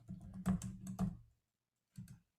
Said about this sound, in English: I have to remember always which one I'm typing on.